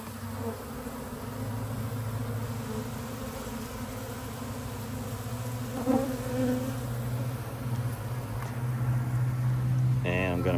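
A honeybee swarm buzzes inside a double bucket swarm trap, a dense, steady droning hum heard up close that continues throughout with a low rumble beneath it.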